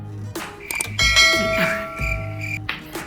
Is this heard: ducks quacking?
no